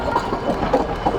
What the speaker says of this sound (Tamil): ட்ரெயின் வந்துருச்சு கைஸ்.